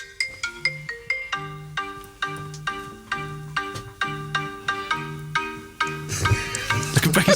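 Marimba ringtone melody blending into the beat of a song, with bright repeated mallet notes over a pulsing bass line, building to a denser swell at the end.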